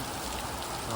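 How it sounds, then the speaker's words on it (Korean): Heavy rain pouring down steadily outdoors at a work site, a dense, continuous hiss of drops striking surfaces with no voices present. "생각보다 비가 많이 와 상당히 고생을 할 것 같았습니다"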